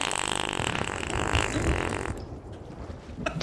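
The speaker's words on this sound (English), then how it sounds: "I can hear his farts" Farting sounds in the pirate game Sea of Thieves, a long raspy blown noise lasting a couple of seconds over sea and wind ambience, followed by quieter short bursts.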